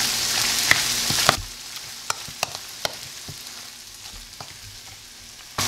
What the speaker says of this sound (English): I'm just going to give everything a stir and get it all incorporated into our softened cream cheese and mayonnaise